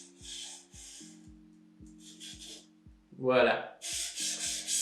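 A knife blade drawn over a Japanese water stone, slow gritty scraping strokes close by, with a low electrical hum beneath and a short spoken word partway through.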